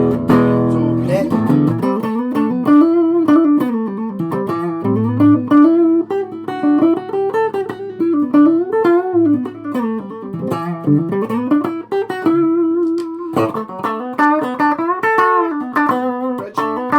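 A G&L ASAT Junior electric guitar played through its neck stacked P90 pickup into a Laney amp, picking a continuous melodic line with sustained notes and chords, loud and clear with no talking.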